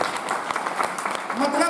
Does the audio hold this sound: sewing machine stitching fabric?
no